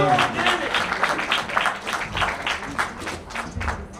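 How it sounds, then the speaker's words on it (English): An audience at a business mastermind event breaks into sustained applause and clapping. Dense rhythmic claps pulse steadily, loud and close, while a voice talks over them. "Clap it up, clap it up, clap it up, clap it up."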